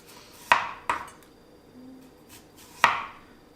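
A kitchen knife chops zucchini on a cutting board for a veggie sandwich: three crisp, close knocks, two in quick succession and a third after a pause, with quiet room tone between.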